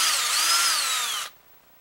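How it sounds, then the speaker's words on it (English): A drill countersinking a screw hole in a wooden bow stock, a loud close high whine with shifting pitch as the bit cuts into the wood, stopping abruptly after about a second, with no talk. "we're going to countersink the one, the furthermost one"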